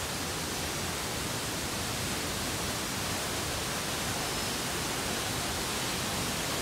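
Waterfall at Situ Gunung gives a constant, dense roar of rushing water, loud and unbroken throughout with no voices.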